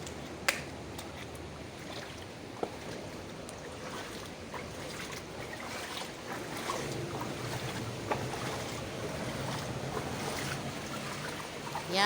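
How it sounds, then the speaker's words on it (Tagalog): Floodwater from the sea overflowing during July rain, a strong current rushing steadily as a broad, constant wash of water noise with a few sharp ticks and knocks, no talking. "Lakas ng agos ng tubig."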